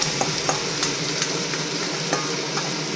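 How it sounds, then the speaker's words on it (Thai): Steady sizzling from chicken frying in a pan for Korean dak-galbi, with light clinks and scraping taps of a utensil stirring every so often. "เอาไก่ลงไปกระทะเลย"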